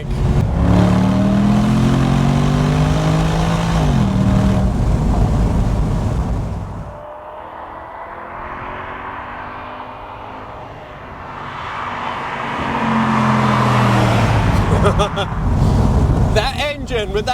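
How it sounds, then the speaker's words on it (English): A Morgan Aero Supersport engine with side exhaust revs hard and close, its pitch climbing through gear changes, easing off briefly, then roaring back up. "That engine with that side exhaust that's just going to get pedestrians, onlookers scattering everywhere."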